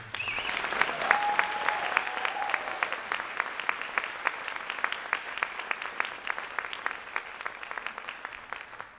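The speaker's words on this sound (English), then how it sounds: "can we give another round of applause to Patty?" Steady applause from a high school winter band and choir concert audience, a dense patter of many hands clapping that continues evenly and fades slightly toward the end.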